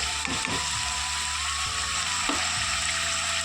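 Ground tomato and coconut masala fries in a pan, a steady loud sizzle with a few stirring scrapes and clinks of the spoon, with no voices.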